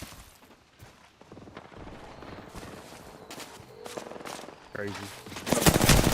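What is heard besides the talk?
gunfire in the video game Apex Legends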